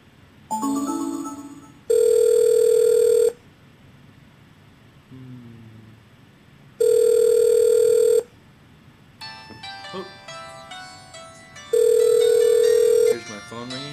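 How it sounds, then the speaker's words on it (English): Landline telephone calling a cell phone: three loud, steady electronic ringback or ringing tones spaced a few seconds apart, with a short ringtone melody and faint handling noises in between. "I just called my cell phone, obviously."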